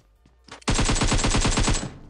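Video-game AKM rifle fire in Battlegrounds Mobile: a single loud sustained automatic burst of roughly a dozen rapid, evenly spaced shots after a brief quiet click, with no talking.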